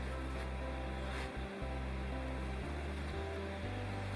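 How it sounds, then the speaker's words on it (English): A creek flows steadily near a backpacking campsite in the Great Smoky Mountains, giving a continuous broadband wash of running water with low rumble, heard alone throughout. "And a creek right down that way."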